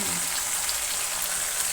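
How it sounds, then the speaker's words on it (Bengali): Hot water hits a pan of sizzling mutton curry in a kadai, giving a loud, steady hiss and bubbling that fills the whole moment without pause. "এই যে গরম জল চলে গেল মাংসতে।"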